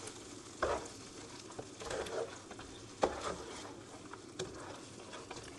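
Mutton with mint, coriander and green chilli paste for methi goat curry gets stirred in a pan, soft sizzling under scattered scrapes and knocks of the spoon, fairly quiet and close.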